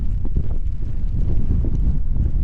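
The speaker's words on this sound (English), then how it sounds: "Super cold, super windy, starting to rain." Strong cold wind buffets the microphone in a continuous low roar with gusty rumbles, steady and close, on a cold day with rain starting.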